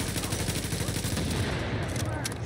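Continuous bursts of automatic gunfire in The Division, set in a subway morgue, loud and close, a dense rattling volley that barely lets up, with a voice speaking briefly over it.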